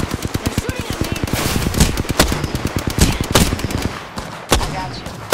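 Rapid bursts of automatic gunfire from an Apex Legends firefight, dense overlapping volleys with sharp individual shots, loud and close, continuing nearly throughout with brief gaps and some faint voice underneath.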